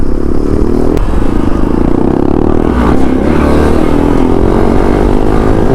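A motorcycle popping a wheelie on a street near Hampi, its engine roaring loud and close with rising revs for several seconds, along with some clatter and scraping.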